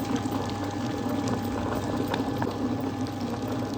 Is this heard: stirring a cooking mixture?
yes